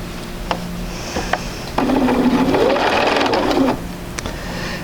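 Sewing machine stitching pieces of fabric in a quilting sampler project, a steady close whirring run of about two seconds between quieter handling noises.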